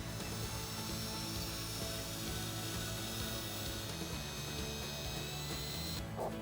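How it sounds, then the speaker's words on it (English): A power drill grinds steadily through an exterior house wall, boring a pilot hole for a dryer vent without pause, a continuous whirring bore that ends abruptly near the close. "drill a pilot hole to the outside"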